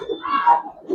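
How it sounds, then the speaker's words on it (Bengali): Giribaz and coloring pigeons cooing close by at a breeder's loft, a soft low murmuring coo rising and falling through the whole second. "কবুতর দেখেন"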